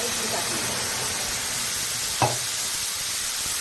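Spice tempering of turmeric, salt and red chilli sizzles and fries steadily in hot oil for a bottle gourd dalcha, a continuous close hiss broken by one brief clink.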